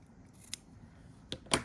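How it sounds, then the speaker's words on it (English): Small sewing scissors snip fabric close to a line of stitching, three quiet, crisp clicks spaced apart, the last a bit louder, with no talking. "you can take your small scissors and carefully clip next to the edge."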